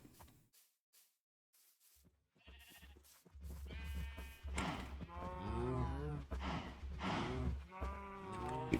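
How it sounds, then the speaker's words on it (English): Sheep on a farm bleat in a loud overlapping chorus close by at feeding time, the wavering calls building after a few quiet seconds of soft rustling. "since we're so close to the sheep and everything, we'll go and feed those guys."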